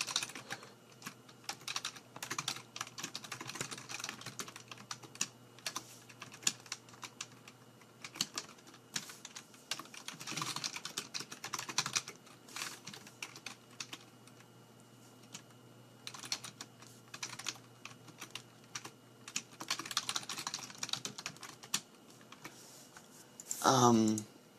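Code is typed on a computer keyboard in quick, uneven bursts of clicking keys, with someone talking at length over the clatter.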